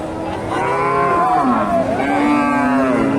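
A Friesian heifer at a cattle market lets out a long, loud, close moo that dips and rises in pitch, following a brief quieter moment.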